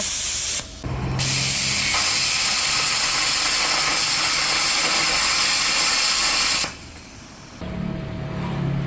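A loud, continuous hissing roar of a pilot-arc plasma cutter slicing metal runs for several seconds, starting and stopping abruptly, with no voices.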